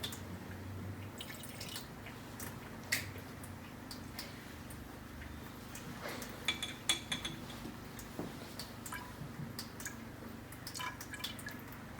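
A little lavender distillate is poured into a glass graduated cylinder. Faint, scattered drips and small glassy clinks come through a quiet, hissy background with no talking.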